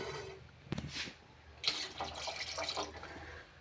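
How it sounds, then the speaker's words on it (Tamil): Water trickles and splashes in short bursts as it is poured into a pot of curry, quiet and close, with no voices. "இன்னும் கொஞ்சம் தண்ணி ஊற்றிக்கலாம்."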